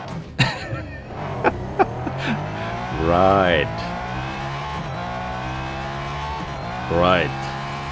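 A car in a racing video game spins donuts, its tires squealing in two long rising screeches between engine revs and a few sharp knocks, with someone talking briefly over it.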